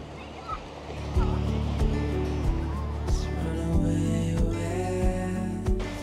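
Sea washes onto the beach at Carbis Bay, Cornwall, a steady loud surf roar with a rhythmic low thumping pulse beneath, heard close with no talk.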